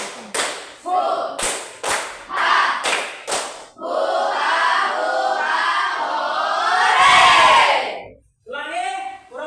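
Children clapping and chanting the 'tepuk rimba' routine in a classroom, sharp rhythmic claps and group voices, then a long sustained group shout, ending with a brief chant.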